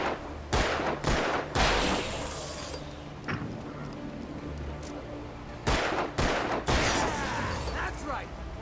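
Gunfire in the dark thriller game Alan Wake, loud sharp shots in irregular bursts: a cluster of three near the start, a lone crack midway, then another tight volley, with quieter game ambience and faint effects between.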